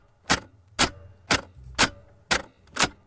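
Clock ticking from a sampled sound-effect library: six sharp, evenly spaced ticks about half a second apart, crisp and close, with a faint low hum beneath.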